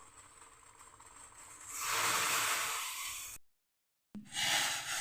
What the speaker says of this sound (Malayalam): വെള്ളം നല്ലതുപോലെ വെട്ടി തിളച്ചു നമുക്ക് ഇനി ചായപ്പൊടി കൂടി ചേർത്ത് കൊടുക്കാം